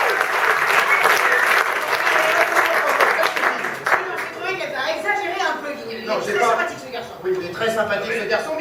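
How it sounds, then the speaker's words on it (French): Audience applause at a live French comedy stage show: a dense, loud wash of clapping that thins into scattered claps, with voices talking over it. "Mais vous êtes prêts à applaudir"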